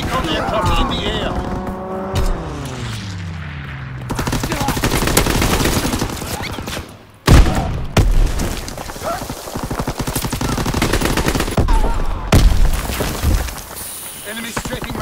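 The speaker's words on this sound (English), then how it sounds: "Enemy strafing run inbound." Loud gunfire and roaring aircraft passes during an enemy strafing run in a Call of Duty WWII multiplayer battle, sustained rattling bursts with a sweeping engine whine, abrupt cuts and a sharp blast midway, game voices faintly underneath.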